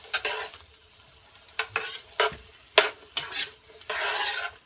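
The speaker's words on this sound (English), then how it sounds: "brown this and caramelize the onions and everything a little translucent" Onions and bell peppers sauté over raised heat in a pan, with bursts of sizzle and scraping spatula strokes coming in uneven, separate pushes against a quieter background.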